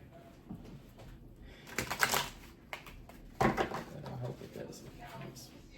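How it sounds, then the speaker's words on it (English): A deck of cards is shuffled by hand, giving two loud riffling bursts with softer card handling between them, close up and without speech. "I'm gonna keep shuffling this deck. I'm gonna shuffle it real good."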